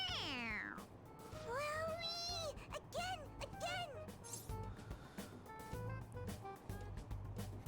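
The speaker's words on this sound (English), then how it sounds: "It meows when you press on its head." A stuffed cat toy in Persona 5 Royal meows when pressed, several sliding electronic meows in quick succession, with a voice talking under them.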